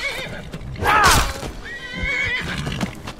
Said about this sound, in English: Oh, horse!